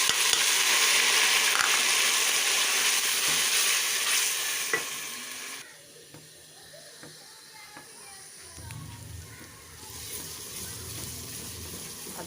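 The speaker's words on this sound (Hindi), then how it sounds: "अब हम अदरक लहसुन की भुनाई करेंगे 5 मिनट तक।" Ginger and garlic frying in a pan, a loud dense sizzle with stirring scrapes that fades partway through, then returns more softly alongside low thumps of the spoon.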